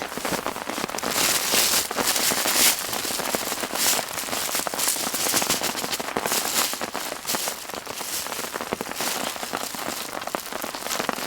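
Heavy rain drums on a tent while camping alone with a dog, a dense, loud, continuous patter with sharper crackling drop hits, steady throughout and with no talking.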